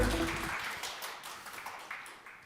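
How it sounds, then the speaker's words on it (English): Light, sparse applause from a conference audience before a talk, a handful of soft claps spread out and receding, with a low thump at the very start. "Applause."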